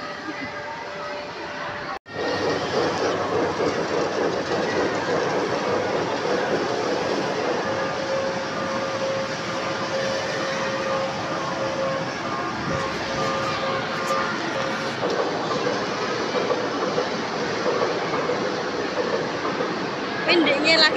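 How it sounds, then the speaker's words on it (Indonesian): Steady rumbling and clattering of a moving train carriage fills the whole stretch, a continuous rolling drone with wheel noise, heard from on board at moderate level. "Pendeknya lagi naik kereta api kok, kayak naik nih."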